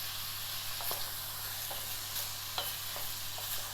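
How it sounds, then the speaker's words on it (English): Shrimps sear in hot oil for a prawn and mango curry, a steady low sizzle with occasional stirring scrapes and soft pops, heard alone at moderate level. "They're getting seared in the oil."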